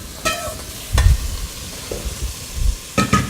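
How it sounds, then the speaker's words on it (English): Salmon with miso butter sizzles in a pan, a moderate crackling hiss broken by a few sharp utensil clatters and bumps, close and without speech. "You can hear starting to sizzle."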